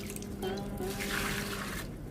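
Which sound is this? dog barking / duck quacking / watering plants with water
watering plants with water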